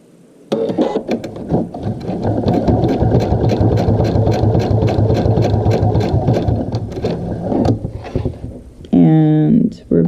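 A sewing machine runs steadily for several seconds, stitching an adjustable strap, with a fast, even mechanical chatter of needle strokes. It stops near the end, and a short burst of another sound follows.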